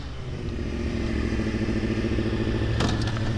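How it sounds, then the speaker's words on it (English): A motorcycle engine revs steadily in first gear, loud and close, a continuous throaty drone with a brief clatter near the end, set during beginner stoppie stunt practice. "So listen to how loud that motor is."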